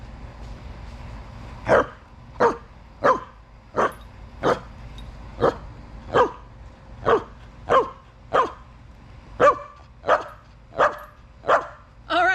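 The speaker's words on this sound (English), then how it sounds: "she was barking loudly and making the classroom noisy" A dog barks loudly and repeatedly in a classroom setting, about fifteen sharp evenly spaced barks, close and clear over a low background hum.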